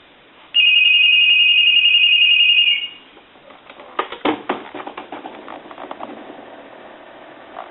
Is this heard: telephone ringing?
yes